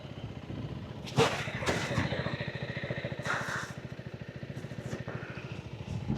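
Motorcycle engine pulsing steadily as the bike rides a rough mountain road in Manang, close and mid-loud with wind buffeting and a few sharp knocks, no talk over it.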